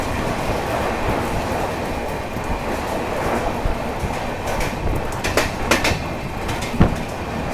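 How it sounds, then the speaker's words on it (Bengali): The Sealdah Rajdhani Express, an Indian express train, departs at high speed with a steady, loud rolling rumble and rhythmic clickety-clack of wheels on rails. Sharper clicks come toward the end, and no one speaks. "ডিপার্চার হচ্ছে খুব স্পিডে মারাত্মক স্পিডে ডিপার্চার করছে আমাদের শিয়ালদা রাজধানী"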